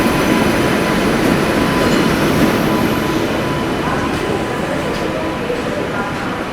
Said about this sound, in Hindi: टीकेडी शेड के वेब 7 के साथ आती हुई अपनी Shiv Ganga superfast express, road number 30334